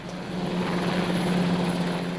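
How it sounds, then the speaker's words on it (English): Government firefighting helicopter flying over a large blaze near compressed gas cylinders, its rotor and engine drone steady and loud throughout, with no voices. "Government flying service helicopters dropped water bombs to put out the flames."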